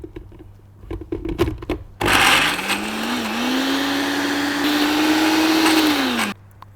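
A kitchen blender runs loudly and steadily for about four seconds while making bruschetta, its pitch rising slightly as it spins up, then it cuts off abruptly.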